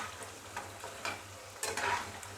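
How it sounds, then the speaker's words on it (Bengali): Nimki, a flaky fried flour snack, frying in hot oil in a home kitchen: a steady low sizzle with stirring scrapes and a few sharper bursts of bubbling, close and alone. "আমার নমকিন ভাজা দিকে কিন্তু হয়ে গেল খুব সুন্দরভাবে"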